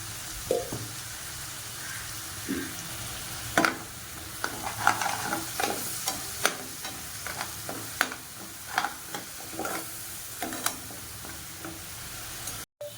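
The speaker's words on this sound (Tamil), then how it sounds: "இப்போ இதை நல்லா வதக்கிக்கிறேன்" Onions sizzle and crackle in a hot pan while a utensil stirs, giving intermittent scraping clicks over a steady low hiss.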